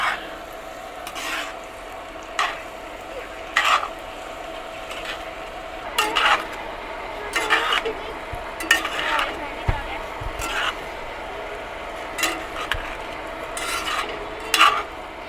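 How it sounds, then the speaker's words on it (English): XO prawn vermicelli is stirred in a pot at an outdoor campsite, with intermittent scraping strokes and clinks over a low sizzle and faint background noise. "Mix everything in, and we'll keep cooking this for about 2 to 3 minutes until the vermicelli is ready"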